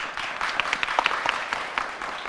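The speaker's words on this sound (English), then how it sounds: "Let's get those applause going. First, for the Pecatonica Indians." A crowd applauds the Pecatonica Indians team as it is introduced at a tournament. The clapping is steady and mixed, with a few sharper single claps standing out above the crowd.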